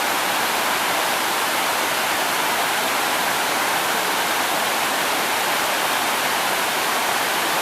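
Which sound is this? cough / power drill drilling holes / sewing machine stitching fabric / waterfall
waterfall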